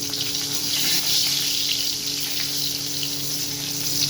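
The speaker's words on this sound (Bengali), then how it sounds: "মাছটা ভেজে নিচ্ছি এটা কিন্তু রুই মাছ ভেজে নিচ্ছি" Pieces of rohu fish fry in hot oil in a pan, giving a steady, close, even sizzling hiss that runs without a break and with no talking.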